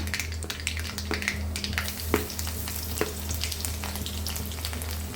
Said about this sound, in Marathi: मोहरी चांगली तडतडली की लसूण टाकायचा.